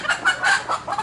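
Rooster and hens clucking in a hen house, a run of close, moderately loud clucks and short calls repeating every few tenths of a second with no talk.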